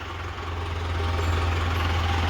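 A large wheat combine harvester backs up, its engine giving a steady, loud low drone that holds at an even level throughout with no talk over it.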